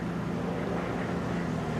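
A small propeller plane passes overhead near a Los Angeles construction site, making a steady, moderate droning hum with no talk.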